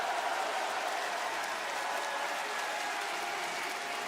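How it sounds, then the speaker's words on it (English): A WWE Raw arena crowd cheers for Gunther during his match with AJ Styles, a dense, sustained roar of applause and shouting that holds steady throughout. "There's more fans cheering for Gunther than AJ Styles tonight."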